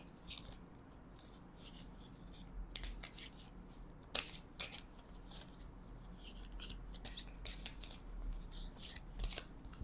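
Tarot cards being shuffled by hand, a soft, steady riffling rustle with scattered sharper card snaps, close and fairly quiet, no talking.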